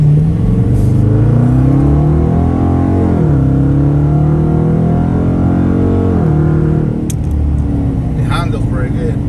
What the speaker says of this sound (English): I kind of like mistreating the car right now, going over the bumps and stuff